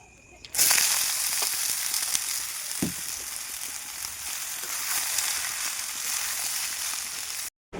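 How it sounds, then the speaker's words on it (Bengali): Loud, steady sizzling of chopped potatoes frying in hot oil starts abruptly and continues without pause, with a brief thump partway through, then cuts off. "দেখুন আলুটা কুচিয়ে নিয়েছি, এবার ভাজা করব।"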